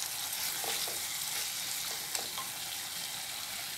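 Potatoes and tomatoes frying in a pan for a capsicum curry, a dense, even sizzle with faint scraping of stirring over it, close and continuous with no talk.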